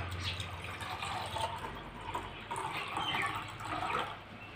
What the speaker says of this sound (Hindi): सबसे पहले हम गिलासों में पानी डालेंगे।